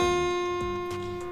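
A single high string on a guitar is plucked during a lesson, ringing as one sustained, fairly soft note that fades slowly over a bit more than a second.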